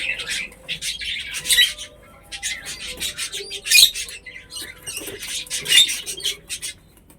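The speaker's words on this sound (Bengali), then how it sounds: "তোমরা তো আওয়াজ পাচ্ছ, আমার ঘরে যে আরো পাখি রয়েছে সেগুলো হচ্ছে কিছু পাখি রয়েছে লাভবার্ড, ককটেল আর বদ্রি।" Pet lovebirds, cockatiels and budgerigars chirp and squawk indoors in a busy, overlapping chorus of bright repeated calls, coming in bursts close by with no talk over them.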